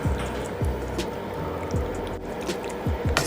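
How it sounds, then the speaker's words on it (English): Cooked pasta stirred into a creamy Alfredo sauce, giving wet, squelchy mixing sounds close up, with several low thumps of the spoon against the pot in an uneven rhythm. "just give it a good mix"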